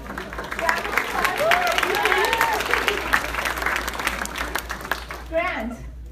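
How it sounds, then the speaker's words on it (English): Guests at a black-tie dinner give a round of applause, dense clapping with voices and cheers mixed in, tapering off at the end as a speaker talks. "Please, a round of applause for Miguel."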